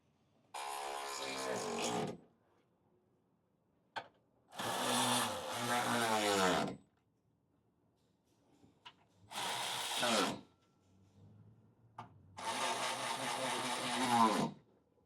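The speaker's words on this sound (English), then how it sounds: "You don't want to snug them all the way until you have all 4 bolts tight." Power tool tightening bolts while a brush bar is installed on a 2026 Subaru Outback Wilderness: four loud whirring bursts of a few seconds each, separated by short pauses and single clicks.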